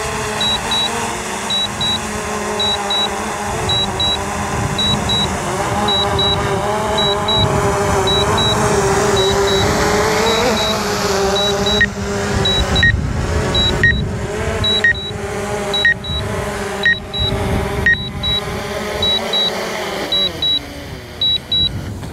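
A DJI Mavic Air 2 drone lands, its motors humming steadily under a string of regular high warning beeps, with short stuttering bursts as it settles and winds down near the end.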